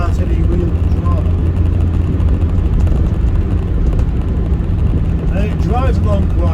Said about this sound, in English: it drives along quite flat and quite straight and quite noisily, but with a wonderfully raspy, rooty A-series sound to it